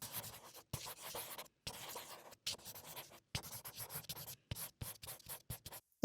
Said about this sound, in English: let's go draw the sketch for how I want this to look